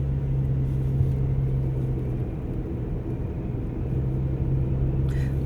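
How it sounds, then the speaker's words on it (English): A car drives a winding mountain road as another oncoming car passes, heard as a steady low engine and tire rumble throughout, with a faint brief hiss near the end. "Another oncoming car."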